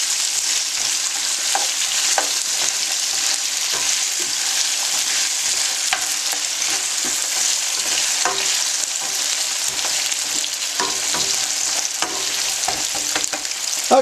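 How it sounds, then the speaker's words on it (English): Green beans with oyster sauce are stirred and sauteed in a pan, giving a loud, constant sizzle broken by scraping stirs and occasional clacks of a utensil, with no talking. "Okay, let's stir this stuff around."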